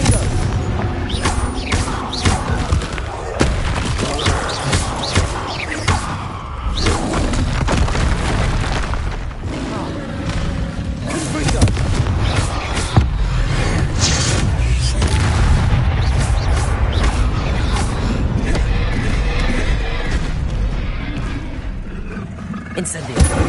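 Confringo blasting spells going off in Hogwarts Legacy, a run of loud, booming explosions with roaring rumble that continues steadily, while a voice speaks over the noise.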